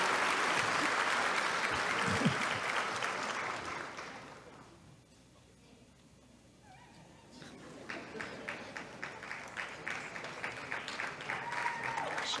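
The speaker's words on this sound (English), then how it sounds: "You can clap. Go ahead." Audience applause at a 2023 high school commencement ceremony, a dense sustained clapping that fades to quiet midway, then builds again with scattered claps.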